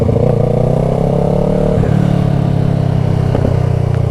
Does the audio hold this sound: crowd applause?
no